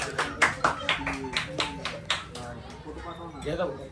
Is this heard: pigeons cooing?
no